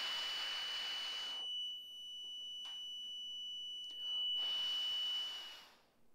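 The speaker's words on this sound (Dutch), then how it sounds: "En daar is het alarm al." Boat exhaust alarm from a dashboard-mounted alarm panel, giving a steady high electronic tone that runs through the clip, with bursts of hissing noise at the start and end and no talk.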